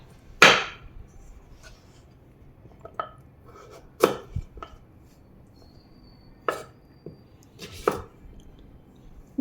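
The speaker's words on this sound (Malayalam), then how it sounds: "ഇനി ഇത് നമുക്ക് കഷ്ണങ്ങളാക്കിയിട്ട് നുറുക്കിയെടുക്കാം" A knife chops through firm pumpkin on a board in several sharp, separate thuds, spaced irregularly with quiet gaps between cuts.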